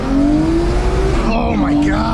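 A rebuilt, previously burned Mazda Miata revs hard while its tires squeal in a drift, the engine note rising and wavering up close, with voices over it.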